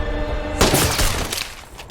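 Gunfire from a sniper exchange in the action film Extraction, a loud sudden burst breaking in after a sustained noisy stretch, dense and sharp with ringing aftermath.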